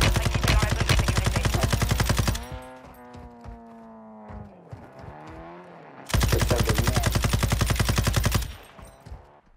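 Rapid automatic gunfire from a first-person shooter video game rattles in two loud sustained bursts separated by a quieter stretch of ringing tones.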